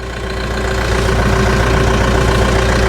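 A small New Holland compact tractor engine idles steadily up close, a loud and constant mid-to-low diesel rumble with a faint knocking pulse and no talking.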